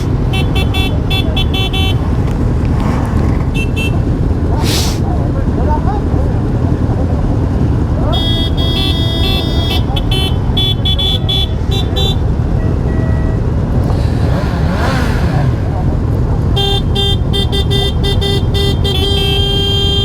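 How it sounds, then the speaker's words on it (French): Horns honking repeatedly at a motorbike rally, with car horns and motorcycle horns, including a Goldwing, sounding in long sustained blasts and shorter toots over steady engine and traffic noise, with voices talking throughout. "Là, ça klaxonne de ouf."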